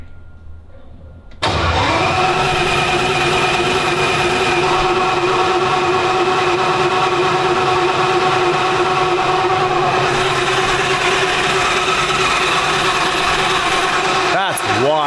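A Ferrari twin-turbo V12 engine cranks over on the starter without ignition, a steady, loud rhythmic churning that begins abruptly after a quiet moment and runs on evenly, cutting off near the end.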